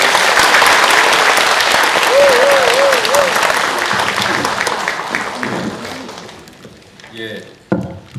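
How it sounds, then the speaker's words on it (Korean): A large seminar audience at a National Assembly policy event bursts into loud, sustained clapping to welcome a speaker, dense and even for several seconds before thinning out and fading, with a few voices and handling noises near the end. "큰 박수로 맞이해 주십시오."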